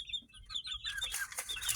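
Young chicks, about a month to nearly three months old, peep and cluck in quick, high chirps close by, with several birds calling over one another.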